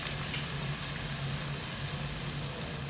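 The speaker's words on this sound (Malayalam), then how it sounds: "അപ്പോൾ നമ്മുടെ സവാള ഒന്ന് ഏകദേശം വഴണ്ട് തുടങ്ങിയിട്ടുണ്ട്" Onions sauté in a pan for Kerala-style Angamaly mango curry, giving a steady, even sizzle that runs quietly throughout with no talking.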